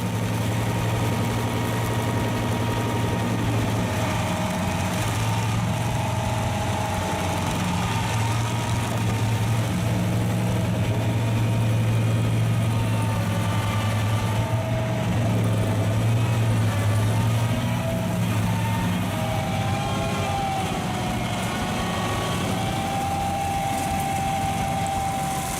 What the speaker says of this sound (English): A 25 HP tree stump grinder Loxam can handle tree stumps up to 63 centimeters high and dig up to 33 centimeters below